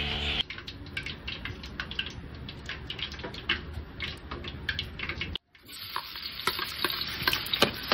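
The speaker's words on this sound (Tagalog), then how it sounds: "Una, magpapainit po tayo ng mantika o ng cooking oil sa ating kawa. Pagkatapos po ay isosote na po natin ang ating onion." Onion hitting hot cooking oil in a wok, a loud, dense sizzle with stirring scrapes, briefly cutting out then resuming as frying continues, close up with no talking.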